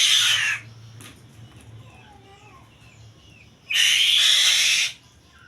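Two bursts of shrill, harsh calls from hungry falcon chicks being fed, one at the start and one near the end, loud and close, with quiet rustling between.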